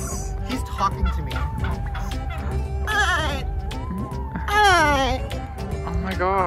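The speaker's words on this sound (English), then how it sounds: "Oh my god, the chickens. Are those turkeys?" Chickens and turkeys on a farm with horses nearby call out in short bleating, gobbling bursts that rise twice, under steady chatter and excited talk from people close by.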